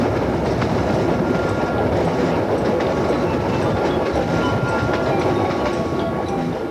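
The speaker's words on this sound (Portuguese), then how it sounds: "de onde sai o trem para Cusco." A passenger train runs on the line from Puno to Cusco in Peru, heard from inside as a loud, continuous rumble with a steady rattle of wheels and carriages and no pauses.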